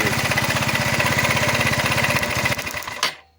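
A scooter engine with an ignition coil fault runs loud and close with a fast, steady putter, then cuts out abruptly near the end and falls silent.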